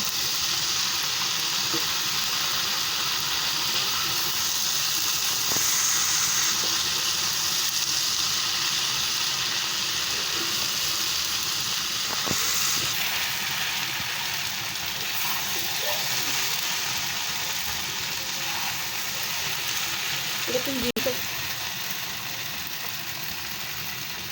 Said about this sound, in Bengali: নুডলসটার সাথে সবজিটা এখন মিক্স করা হচ্ছে।